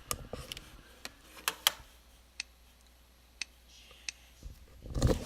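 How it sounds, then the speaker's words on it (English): Mouse clicks triggered by hovering over a webpage element, several sharp isolated clicks spaced irregularly against a quiet background, with a louder clatter at the end. "let you hear this clicking sound"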